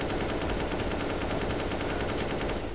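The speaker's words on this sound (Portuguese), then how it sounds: "olha como que é o spray da K" In CS:GO, an AK rifle fires in a long uncontrolled spray, a loud, unbroken stream of rapid evenly paced gunshots that cuts off just before the end.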